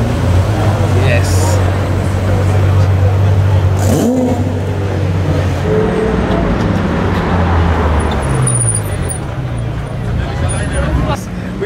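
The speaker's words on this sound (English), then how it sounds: "We've got the LaFerrari." A Ferrari LaFerrari supercar moves through a busy street at the Top Marques 2018 show, its engine note rumbling steadily beneath dense crowd chatter and traffic noise, with people talking nearby throughout.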